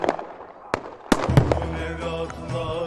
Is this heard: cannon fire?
yes